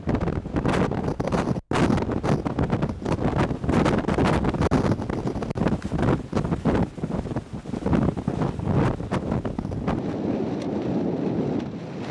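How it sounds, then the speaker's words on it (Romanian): Strong storm wind on Mount Everest batters the microphone in loud, continuous rushing gusts, roaring and buffeting for the whole span before easing slightly near the end. "De două săptămâni, vânturile ne biciuie crâncen și tare aș vrea să le putem opri."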